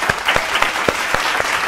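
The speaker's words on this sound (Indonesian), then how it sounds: "Give a big applause for them." A group applauds a row of boys, with brisk, fairly loud clapping in a steady pulse of distinct claps and no voices over it.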